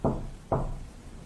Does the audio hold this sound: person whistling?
no